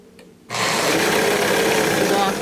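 A sewing machine starts abruptly and runs at a steady, loud whir, stitching a folded seam on stretchy gym-skirt fabric, the motor and needle buzzing continuously after a brief quiet moment.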